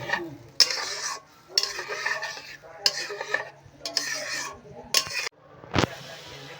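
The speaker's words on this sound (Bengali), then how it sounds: "এইভাবে অনেকক্ষণ ধরে নাড়তে হবে, যাতে তলায় বসে না যায়।" A spoon stirs ripe mango pulp in a karai in repeated scraping strokes, each a loud burst of wet scraping and clinking against the pan, separated by short pauses, with a faint sizzle underneath.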